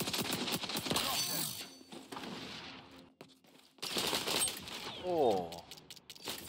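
An M60 machine gun fires in XDefiant during an Occupy match, coming in sharp bursts between stretches of loud voice and game noise, with a mechanical rattle near the end.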